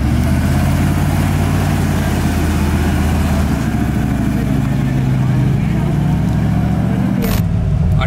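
A Mexico-only Ford truck engine idles with a steady low rumble and slight wavering, close and loud, while voices talk over it.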